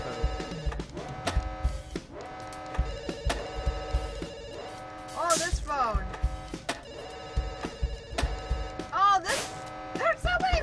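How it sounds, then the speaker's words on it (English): A telephone rings repeatedly in the video game Dr. Langeskov, its bell bursts recurring through a busy mix of music and other game sounds, with a voice talking over it. "Please pick up the phone."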